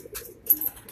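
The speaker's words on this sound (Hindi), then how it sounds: "इसमें मेल में मिक्स कबूतर है" Soft, low coos from mixed-breed pigeons, including Rampuri and Ferozpuri, murmur briefly at a close distance on a rooftop loft in Karachi, with faint rustling and chirps around them.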